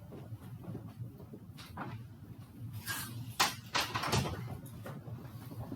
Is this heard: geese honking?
no